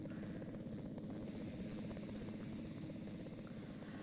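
A helicopter arriving in a video game, its steady rotor chop and engine drone holding loud and continuous throughout, with a faint high whine above.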